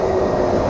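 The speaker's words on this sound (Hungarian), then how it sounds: "Ez ott a vonat." A Disneyland train rumbles past nearby in a steady, continuous roll with a faint tonal squeal over the top, lasting under a second and with no voices.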